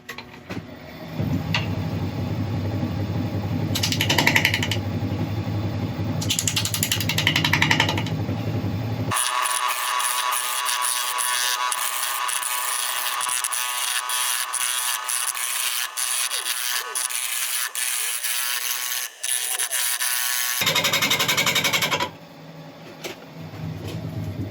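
Sanding a grass tree root bowl spinning on a woodturning lathe, a rough, steady rubbing hiss over the lathe's hum that comes and goes in bursts, close up.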